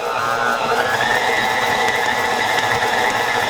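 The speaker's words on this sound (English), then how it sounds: "we're going to let this knead for 5 minutes" A KitchenAid stand mixer with a dough hook kneads pizza dough, a loud, steady mechanical whir and gear rattle that runs on without pause and without any voices.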